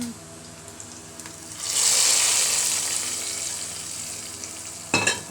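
Mustard seeds, curry leaves and chillies hit hot ghee for a dal tempering, bursting into a loud, bright sizzle that slowly settles into a steady crackle, with a sharp clatter near the end.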